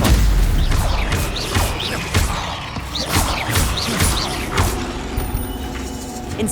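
Stupefy spell bursts in Hogwarts Legacy, a rapid run of punchy magical blasts and thuds with whooshing swells, loud and close over busy combat noise.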